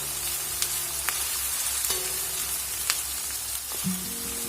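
Onion and garlic sizzle steadily in a pan of hot oil for a mutton curry, a close, even frying hiss with a few faint clinks and stirring scrapes.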